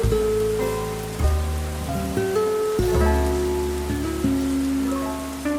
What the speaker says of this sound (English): Peppa and George are sitting and watching the rain fall from the window